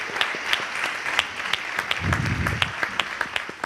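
A crowd applauds continuously at a live stage interview event, a loud even wash of hand claps with some sharper individual claps standing out and a brief low rumble partway through.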